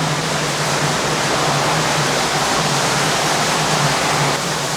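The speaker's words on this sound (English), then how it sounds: "You can see all the water runs down into here, and then it's pumped out from here." Water pouring down and draining inside Greers Ferry Dam near the bottom of the lake, a constant, dense hiss and rumble like a waterfall, steady and close with no talk.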